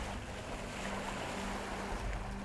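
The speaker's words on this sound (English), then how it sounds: "Wind creates waves and difficult currents." Wind and ocean waves at sea off Polynesia, a steady broadband rush of surf and gusting wind, loud and continuous with a low rumbling wash throughout.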